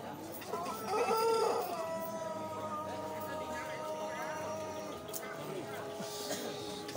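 A rooster crows at a chicken contest in Lebak Wangi, a drawn-out call near the start followed by lingering clucks, with people talking in the background.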